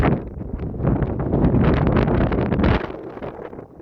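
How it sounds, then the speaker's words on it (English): Steady wind buffets across an open golf course, roaring into the microphone in continuous gusts for several seconds before easing slightly near the end. "A wee bit windy at the moment right behind me."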